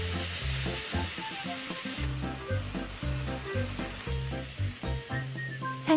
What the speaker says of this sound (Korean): 간장 소스와 어묵을 잘 섞으며 볶습니다.